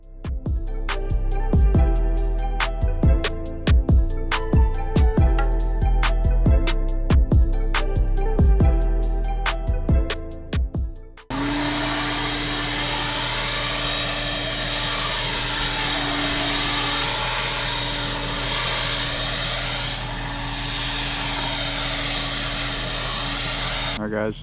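A gas-powered leaf blower roars steadily up close as it clears a pile of debris off a driveway, a continuous loud whine after a stretch of rhythmic knocking and clatter.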